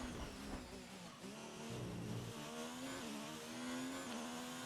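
Formula 1 car on a qualifying lap around the Monaco street circuit in the F1 2019 video game, its high-pitched engine screaming steadily near and loud, pitch rising and dipping through gear changes, with brief tire squeal.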